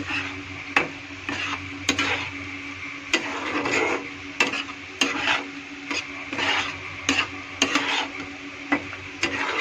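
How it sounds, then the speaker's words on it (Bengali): Beaten egg is poured over potatoes in a frying pan and stirred, giving a soft sizzle beneath a dozen or so crisp, irregular scrapes and clacks of a spatula against the pan, close and fairly loud, with no voices. "ডিমটা ঢেলে দিয়ে একটু ভালো করে নেড়ে চেড়ে দিব"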